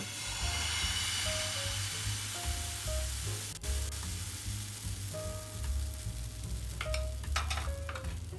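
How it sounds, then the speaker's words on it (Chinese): Kuih dadar batter sizzles and fries steadily in a hot pan, a continuous close hiss with low rumbling underneath and a few faint clinks of utensils near the end. "就这样一直重复煎到那个面糊没完就可以了"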